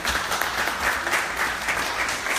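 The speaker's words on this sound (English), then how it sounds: "Give them a round of applause." A live audience claps steadily for a panel at a pop-up networking event, a dense, continuous wash of hand claps filling the room at close range without a break.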